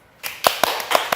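A few separate hand claps land close to the mic in a podcast studio after brief silence, sharp, uneven slaps spaced a fraction of a second apart.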